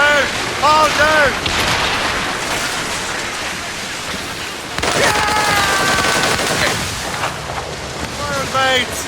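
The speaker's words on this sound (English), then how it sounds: "They are firing a volley!" Ship cannon volleys boom and crackle in a rolling barrage during an Assassin's Creed Rogue naval battle, while voices shout over the rumble.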